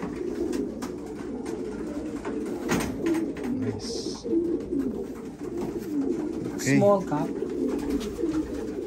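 White grizzle racing pigeons coo softly at a home loft, low murmuring calls under quiet background talk and a brief spoken word.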